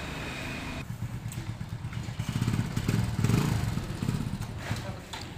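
Motorcycle towing an attached bike trailer during a test ride, its engine running steadily and rising to a louder rumble midway, with faint voices in the background.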